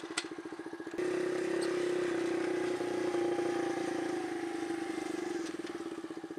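A Kawasaki KLX motorcycle engine idling along in fourth gear without stalling, a steady loud drone with a ticking exhaust pulse, rising suddenly after a second and easing slightly toward the end.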